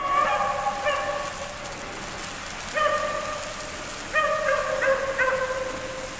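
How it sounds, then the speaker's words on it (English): Wild dogs bark in short bursts somewhere off in the woods, distant and intermittent over a steady patter of rain. "it sounds like those dogs are getting closer"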